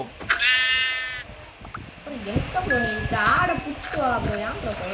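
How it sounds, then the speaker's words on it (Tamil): A goat bleats loudly and nearby in a video game, then more bleats overlap as a person talks over them, with game-like background sounds. "இங்கே நிறைய ஆடு ஸ்பான் ஆகுது ப்ரோ"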